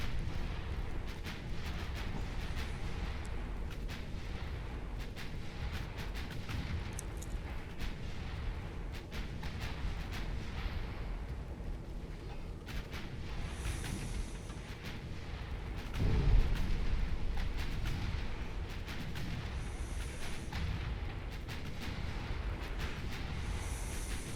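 Warship shells and torpedoes explode in a naval battle in the game Ultimate Admiral Dreadnoughts, a dense, continuous low rumble of booming gunfire with one heavier blast standing out, all blended into a steady roar.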